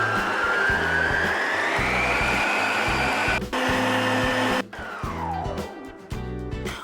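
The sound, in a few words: stand mixer with flat beater whipping coconut cream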